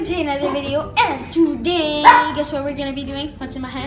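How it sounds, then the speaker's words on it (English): A dog yips and barks a few times in the background, fairly close, mixed in with a person talking over it the whole time. "sorry if you hear my dog in the background"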